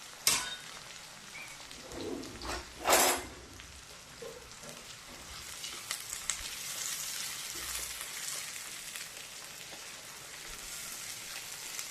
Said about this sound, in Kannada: ಈಗ ನೀರುಳ್ಳಿ ಹಾಕ್ಕೊಳ್ತೀನಿ ನಾನು. ಅದ್ರ ಜೊತೆ ಕರಿಬೇವು ಕೂಡ ಹಾಕ್ಕೊಳ್ತೀನಿ.